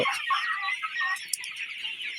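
Sonali chickens in a poultry shed keep up a steady, busy clucking, with several birds calling at once close by and no talk.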